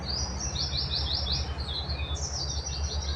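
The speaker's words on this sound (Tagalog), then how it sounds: "yung maririnig mo mga ibon, huni ng ibon" Several small birds chirp and tweet in repeated quick bursts over a steady low rumble, fairly close and clear with no talking.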